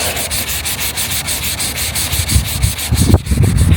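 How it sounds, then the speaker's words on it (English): Sanding a car's paint edge smooth to feather it: steady, close rhythmic rubbing strokes of abrasive on the painted panel, growing slightly heavier and more scrubbing toward the end, with no voices. "we're just going to feather this edge out so it's smooth"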